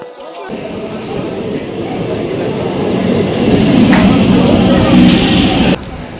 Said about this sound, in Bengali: একটা সবে আপ ট্রেন বার হয়ে গেল মানে কলকাতায় যাচ্ছে